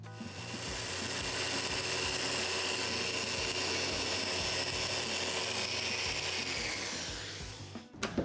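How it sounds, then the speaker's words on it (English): A random orbital sander with 120-grit paper whirs steadily against the wooden legs of a bedside table, a loud continuous buzzing hum that runs for several seconds before winding down. "Now I've switched over to 120 grit and I'll finish off sanding the legs."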